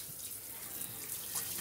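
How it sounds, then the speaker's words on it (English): Water running steadily from a sink faucet, a soft continuous hiss and splash heard close up without talk, during a fabric dyeing session. "it would help if I turn the water on"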